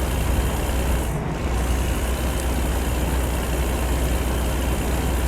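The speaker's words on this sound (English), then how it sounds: "I wonder what the engine brakes sound like in this thing." A heavy Kenworth K100 truck engine rumbles steadily and loudly throughout under engine braking, a deep continuous drone with a brief hiss near the start.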